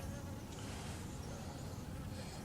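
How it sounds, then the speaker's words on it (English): A dense, steady buzz of many European honey bees humming together nearby, continuous and even throughout with no voices. "we know that these are European bees"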